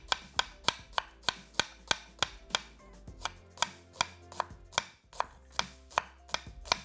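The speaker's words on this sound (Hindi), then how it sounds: "ऑयल को हमने ऑन कर दिया है ताकि जो टाइमिंग हमारा प्याज कटने में लगे उस टाइमिंग में हमारा ऑयल रेडी" Onions chopped quickly with a knife on a board while oil heats, giving a fast, even run of sharp, close knocks, about three per second throughout, with a brief pause near the middle and no voices.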